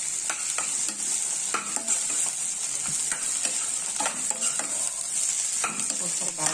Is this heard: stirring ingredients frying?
yes